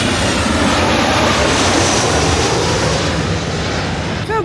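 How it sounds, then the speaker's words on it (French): A loud, continuous roar from an airplane passing overhead in Los Angeles fills the scene, a broad rumbling wash that holds steady and begins to ease only at the very end, with no speech. "regardez l'avion qui passe"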